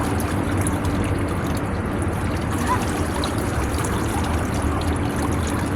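Cool pool water trickles and laps softly in a steady, even wash at close range, with no clear voices.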